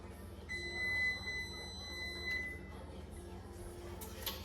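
A faint electronic beep tone sounds steadily for about two seconds over low background noise, then stops.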